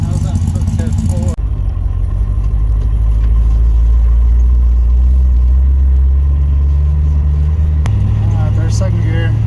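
A Nissan 240SX with a swapped LS V8 and T56 gearbox drives along, its engine a deep, loud, continuous rumble with a clear gear change partway through, under occasional talk.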